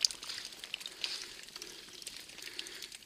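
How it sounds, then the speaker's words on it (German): Water dripping from thawing ice in a cave, a soft, steady patter of drops close by with a faint sizzling wash, no voices. "Hier tropft es überall."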